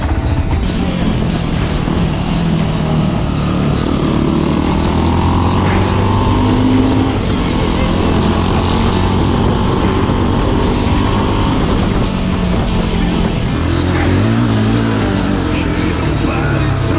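A Fantic Caballero motorcycle sets off at a fun race day, its engine a loud, steady, close drone that holds without a break for the whole stretch.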